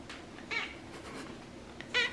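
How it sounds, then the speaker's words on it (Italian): A white cat with a little orange in its coat meows twice indoors, short clear calls about a second and a half apart over a quiet background. "Hai sempre qualcosa da dire, gatto Denver, sempre qualcosa da dire"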